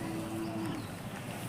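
A single faint, drawn-out moo from a cow rises over a quiet background murmur at a traditional cattle fair in Yadiyur, Kunigal taluk, Tumakuru district.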